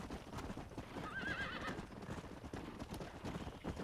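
A horse whinnies over steady clip-clopping hooves in the video game Red Dead Redemption, with the neigh rising midway through a continuous galloping rhythm.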